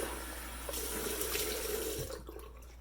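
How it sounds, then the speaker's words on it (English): Warm water splashed onto a face at a bathroom sink, a steady close rush and patter that stops abruptly near the end. "I'm going to splash warm water on my face"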